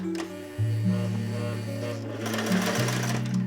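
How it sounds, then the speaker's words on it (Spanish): A sewing machine stitches a fabric strip closed along one edge while making triangular pattern weights, its motor running in a steady close whir with a low hum and short pauses and speed changes. "Entonces aquí la cosí de una orilla para cerrar completamente"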